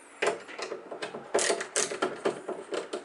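A screwdriver backs out the screws of a tubular lever lock on a house door, giving a steady run of close, crisp ratcheting clicks with no speech.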